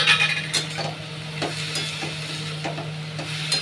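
Vegetables with turmeric, salt and split green chilies being stirred in a pan, giving a steady low hum with repeated scraping strokes and a light sizzle throughout, no voices.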